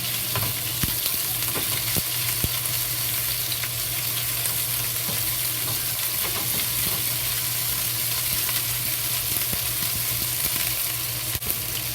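Pork frying with chopped ginger in a pan gives a loud, steady sizzle throughout, with scattered crackles and occasional clicks of stirring, no voices.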